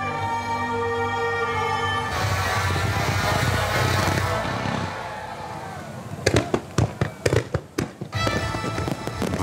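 Fireworks launched at a large outdoor fireworks show with a crowd, a dense rumbling wash of bursts followed by a run of sharp, loud, separate cracks and booms in quick succession.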